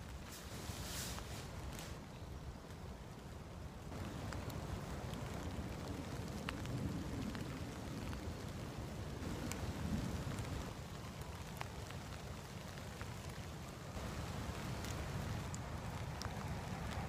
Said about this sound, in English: I've got Storm Doris blowing in today, so it should be an interesting one.